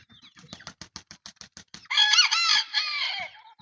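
Two Bantam roosters sound off up close: a run of short, rhythmic clucks, then one loud, drawn-out crow that trails away at the end.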